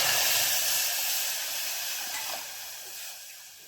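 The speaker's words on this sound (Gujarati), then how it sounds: "હવે આને એમાં આપણે 2 કપ દૂધ ઉમેરી દઈશું." Two cups of milk poured into a hot pan of roasted fenugreek give a loud, broad sizzling hiss that slowly fades over a few seconds, with no talk.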